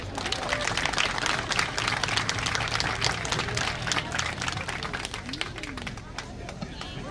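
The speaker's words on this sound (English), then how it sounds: "Raider Nation, let's give all of these inductees one more round of applause." A crowd at a football Wall of Fame induction ceremony breaks into dense, sustained applause and clapping that fills the space, with a voice carrying over the noise.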